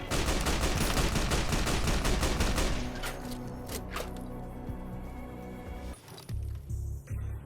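Gunfire from Fallout New Vegas: a dense, loud fusillade of rapid shots fills the first three seconds, then scattered single shots and clatter, ending with a few heavy thumps.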